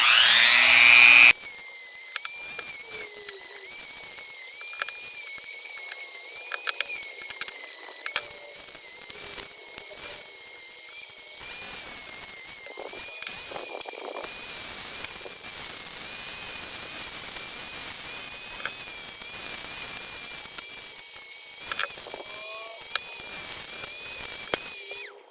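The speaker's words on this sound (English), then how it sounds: "Then I'll get the Dremel out and work on these a little. Alright, I'm going to use a 80 grit bristle disc and clean these things up a little bit." A Dremel rotary tool fitted with an 80 grit bristle disc cleans metal parts of a Zebco 2600 camp stove, a steady high-pitched whine running nearly the whole time with shifting grinding scrapes as it works the surface.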